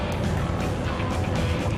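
A Lotus Evora engine at full acceleration roars steadily and loudly, a dense continuous engine drone with wind noise, close and sustained throughout.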